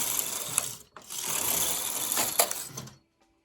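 A domestic knitting machine carriage runs across the needle bed for two rows of an elongated stitch, its cams set to hold, making a continuous close mechanical whirring rattle with a brief pause between passes, then stopping.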